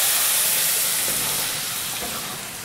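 Tamarind water, thickly dissolved in hot water, poured into a hot pan for puliogare mix, giving a loud, steady broadband sizzle and steamy hiss that fades slightly over a few seconds, with no talk.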